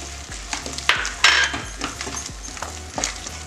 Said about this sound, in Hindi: इसको 5 मिनट के लिए भून लें।